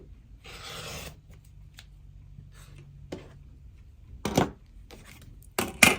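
A foundation paper pieced quilt block, made from the Trinket pattern, being trimmed: short, dry rasping cuts in three separate bursts, the first longer and the last two brief and sharp, with quiet pauses between them.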